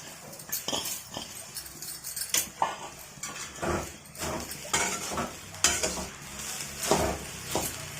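Grated coconut roasting in a pan for coconut burfi gives a busy, continuous crackle and scraping as it is stirred, with spoon-on-pan clinks and a steady close sizzle throughout.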